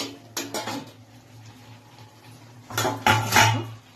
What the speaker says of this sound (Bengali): একটু এবার নাড়াচাড়া করে দেবো, নিচেরটাকে উপরে তুলে নেবো।